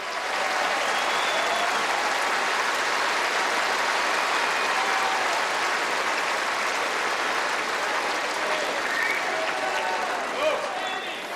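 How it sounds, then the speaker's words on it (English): A large arena crowd at the Australian Open men's final applauds the chair umpire, a loud, continuous wash of clapping that holds steady for several seconds, with some voices mixed in. "Please give him a warm round of applause"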